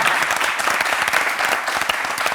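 A television studio audience gives a loud, dense burst of applause, continuous even clapping filling the whole moment with no voices over it.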